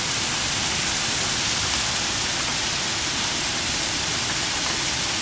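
Steady dense patter of hail hitting the ground, a continuous hissing rush with no pauses, fairly loud and close throughout.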